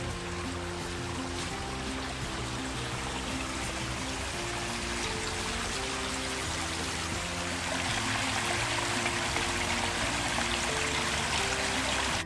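Water runs through a nature-inspired garden stream with three waterfalls, a steady close rushing and trickling wash that holds even from start to finish with no voices.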